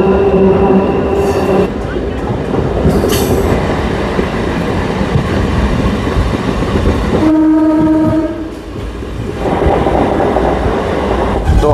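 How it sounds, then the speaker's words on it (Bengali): Passenger train running on the new Krishnanagar–Amghata rail line, a steady loud rumble and rattle of carriages on track throughout, with a brief horn-like tonal blast midway and a short dip before the running noise resumes. "আমাদের ট্রেন কিন্তু প্রায় আমঘাটা পৌঁছাতে চলেছে"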